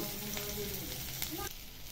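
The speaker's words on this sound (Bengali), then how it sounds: "কেটে রাখা বড়াগুলো পরের পর দিয়ে দেবো ভেজে রাখার জন্য" Cut curry-leaf vada rolls fry in a spoonful of oil in a hot wok, a faint, steady sizzle with soft stirring sounds.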